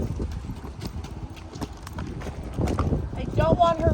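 A horse named Ducky walks slowly up and down a hilly trail, its hooves clip-clopping in a steady rhythm close by, with a rider's voice and wind noise over the steps.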